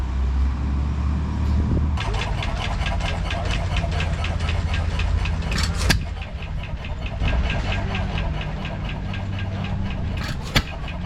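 An International Type M tractor engine chugs steadily at a steam and threshing show, making a continuous, even knocking beat against outdoor background noise, with a couple of sharp knocks near the end.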